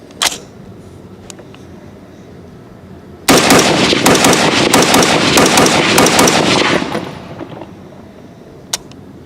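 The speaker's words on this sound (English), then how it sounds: "do a mag dump. I'm going to pull the trigger as fast as I can." A Ruger SFAR .308 rifle dumps a magazine in rapid fire at an outdoor range, a loud burst of closely spaced sharp shots lasting several seconds, framed by quiet before and a single faint click afterward.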